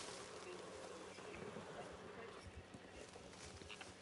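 Faint, steady clip-clop of a horse's hooves in Red Dead Redemption 2, soft and distant beneath low ambient game noise.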